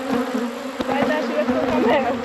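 An angry honeybee colony swarms around an opened hive, producing a dense, loud, continuous buzz with individual bees whining past up close, and a person speaks faintly beneath it.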